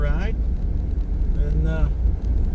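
Car driving with a low rumbling engine and road noise throughout, while a person talks over it in brief bursts.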